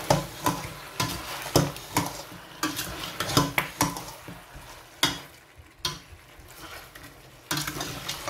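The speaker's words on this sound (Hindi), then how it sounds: "बिरयानी मसाला अच्छी तरह से मिक्स करूंगी मैं इसे।" A spoon scrapes and clinks against a cooking pot while biryani masala is stirred into chicken, giving sharp irregular metallic knocks over a faint sizzle.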